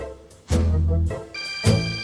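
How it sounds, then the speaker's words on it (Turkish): A mobile phone rings indoors with loud, tonal bursts that start, pause and repeat, with no talking over it. "telefonum çalıyor"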